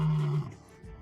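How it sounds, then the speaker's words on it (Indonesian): A lion gives a heavy, deep roar from the edge of a forest beside an African savanna, loud at first and then breaking off into quieter rumbling, with no talking. "Tiba-tiba raungan berat terdengar dari tepi hutan."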